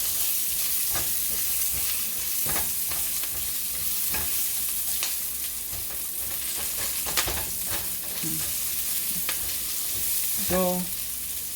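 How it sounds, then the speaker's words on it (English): Onion sautéing in a pan for burgers gives a steady, loud sizzle throughout, with scattered clicks and scrapes of stirring and a brief tonal clink near the end. "do a quick saute of the onion so that we can use for the burger"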